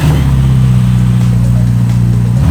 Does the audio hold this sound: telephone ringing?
no